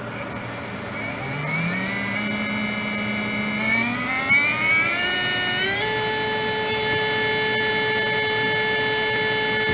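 Fantom Helix RS 17.5T brushless RC motor running on its own, a steady electric whine with sharp harmonics that climbs in pitch as it spins up, then holds a high, even tone near full throttle.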